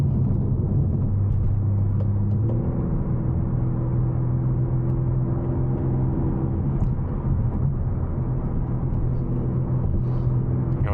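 A BMW B58 engine rumbles on a city street, a steady deep drone holding throughout with a slight shift in pitch early on, fairly loud and with no voices.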